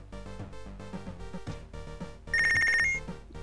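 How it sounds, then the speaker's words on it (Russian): A telephone rings in the Punch Club video game, one bright electronic ring cutting in loudly over steady game music. "Опять телефон звонит."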